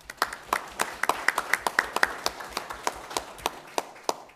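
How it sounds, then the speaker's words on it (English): A small board meeting audience claps briefly, a sparse set of distinct hand claps in an uneven rhythm, fairly close, with no talk over it. "I'd like to give them all a round of applause."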